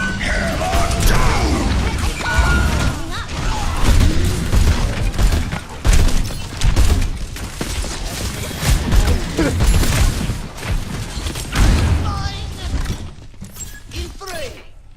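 Bombs going off in the Overwatch video game, with repeated booms and clattering mechanical bursts layered in a busy, loud mix, with voices heard over the action.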